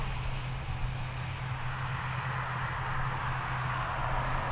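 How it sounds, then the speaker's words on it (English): An eight-year-old ATR 72-600 turboprop airliner departs Dublin Airport for Southampton, its steady engine roar and low propeller hum sustained and fairly loud, with no talk. "Off to Southampton, 8-year-old ATR 72-600."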